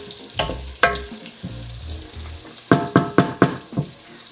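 Garlic sizzles in a hot pan over medium heat for pork binagoongan, with sharp crackles and spatters that bunch into a quick cluster of loud pops near the end, heard up close.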